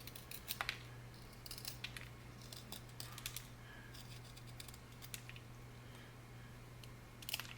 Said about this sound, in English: Sharpen up a wood pencil.